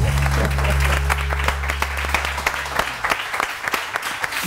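Studio audience applause on a Pakistani morning TV show, a dense burst of clapping that thins into scattered claps toward the end, with a low music tone under the first half.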